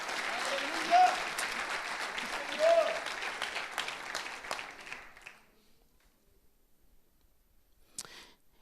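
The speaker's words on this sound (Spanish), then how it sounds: "Dale un aplauso a la gloria del Señor." Church congregation applause, a moderate, steady wash of clapping with a few louder bursts that stops abruptly around five seconds, leaving near silence broken by one late sharp sound.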